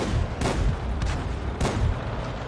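A tank cannon in a tank video game fires in a quick series of sharp booming shots, about three blasts in under three seconds over a rumbling engine background.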